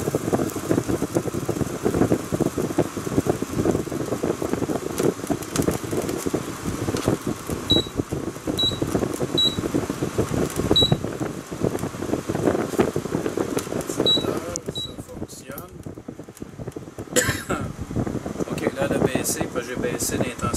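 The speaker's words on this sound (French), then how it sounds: "J'ai baissé l'intensité du ventilateur." A cleaned and repaired air conditioner runs its fan in a steady, broadband whoosh with a low hum, punctuated by several short high beeps; the airflow briefly drops near the end, then resumes.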